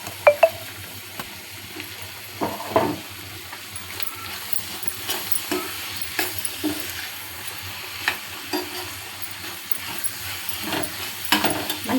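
Chopped green chillies being stirred into a curry in a pan, with a soft sizzle and scraping spoon strokes repeating at a steady pace, close and moderately quiet.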